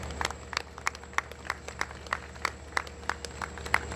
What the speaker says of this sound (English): Let's give a round of applause for Long Island Railroad workers.